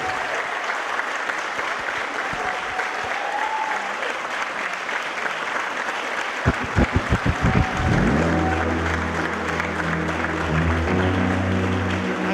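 Sustained, loud applause from a summit audience cheering a young man, a dense wash of clapping that continues as tonal music swells in underneath toward the end.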